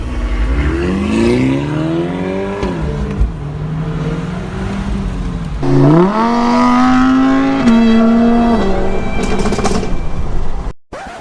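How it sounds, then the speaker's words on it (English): An Audi S3's engine revs loud and climbs in pitch as the car accelerates hard, the roar rising and holding steady before cutting off abruptly. "Whoa, this car is fast."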